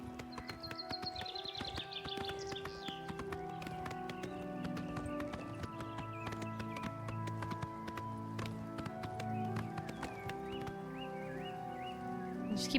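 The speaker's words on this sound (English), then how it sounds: "the horse actually slows down when it goes up hills" A horse's hooves clop steadily at a run in Oblivion Remastered, a continuous rhythmic beat of hoof strikes over sustained background music.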